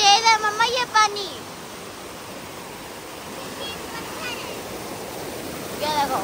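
Ice-cold river water rushes steadily near Naran Kaghan, a constant close hiss of flowing current, with people talking briefly at the start and again at the end.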